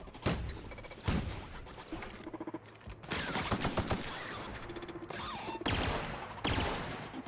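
Bursts of weapon gunfire in The Outer Worlds, loud repeated volleys of shots with short pauses between them and sharp impact cracks, no talking.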